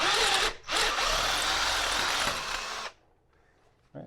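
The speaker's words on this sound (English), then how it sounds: "we drilled out the old hole, the old threads" A power drill bores out a stripped threaded hole, a steady loud whirring grind for nearly three seconds with a brief dip early on, then stopping abruptly into quiet.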